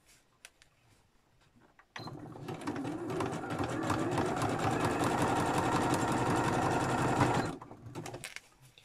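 A sewing machine stitching the pages of small art journals whirs in a loud, close, steady mechanical run for about five seconds, starting and stopping abruptly, with quiet handling before and after.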